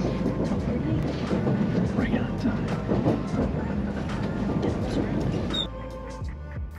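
Inside a Shinkansen bullet train, a steady rumbling cabin drone with faint rhythmic rail clicks runs throughout, easing slightly near the end, while indistinct voices murmur in the background.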